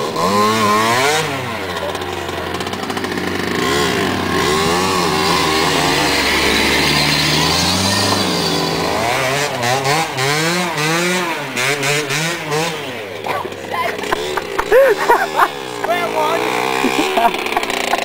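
Motorcycle engine repeatedly spinning up and losing power, a buzzing, wavering revving drone that rises and sags, heard up close with people talking over it.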